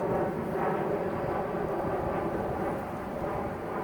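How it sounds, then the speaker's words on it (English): A fixed-wing airplane passing overhead, a broad steady rumbling roar that holds at a moderate level throughout with no break, heard on its own. "We got another plane, you guys."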